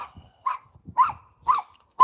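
Small dogs barking at a steady pace, about four sharp, moderately loud yaps spaced roughly half a second apart, with no talk over them.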